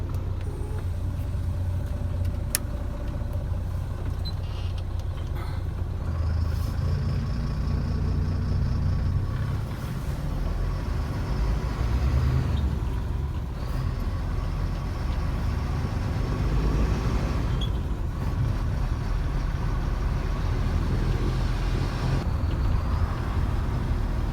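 A Leyland truck's engine drones steadily as the truck drives along the road, a loud, continuous rumble with road and wind noise. Gear and load shifts cause slight swells, and no voices are heard.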